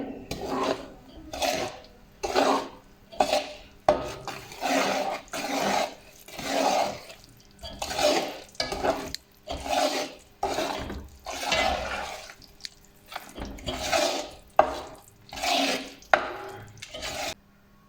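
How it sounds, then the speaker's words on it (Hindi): Flour and flax seed stirred with a spoon in a large kadhai off the flame, rhythmic scraping strokes repeating steadily, close and moderately loud, with no talk. "ऐड करते जाएंगे, साथ साथ चम्मच हिलाते जाएंगे।"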